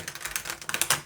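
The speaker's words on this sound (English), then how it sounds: "This deck doesn't want to shuffle." Tarot cards being shuffled, a run of quick crisp papery riffles and taps close by, with no talking.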